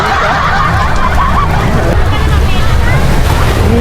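Loud, continuous roar of ocean surf at Matabungkay Beach, blended with heavy wind buffeting the microphone, steady and unbroken throughout.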